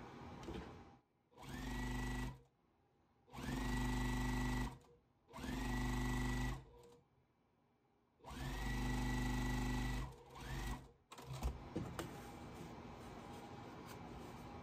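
A sewing machine stitches a quilt strip onto a four patch basket block, running in several loud bursts of a second or two each separated by short pauses, then a few softer clicks and handling noises at the end.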